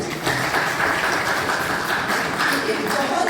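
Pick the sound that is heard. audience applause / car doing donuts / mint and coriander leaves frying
audience applause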